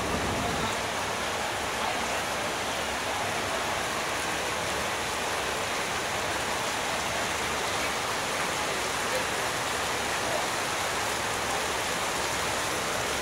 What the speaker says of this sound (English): Try not to get wet, it's raining right now.